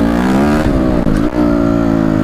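A nearby enduro motorcycle engine revs hard, its pitch climbing briefly with a stutter before settling into a steady loud drone.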